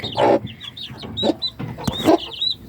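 Free-range kienyeji chickens with two-week-old chicks cluck and peep close by, a busy scatter of short clucks mixed with high thin chick cheeps.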